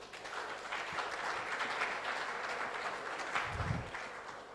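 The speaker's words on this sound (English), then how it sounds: "they deserved a better applause" Audience applause for presenters at the NRCRI annual review and planning workshop, a moderate, even patter of clapping in a hall that continues throughout with a few low thumps near the end.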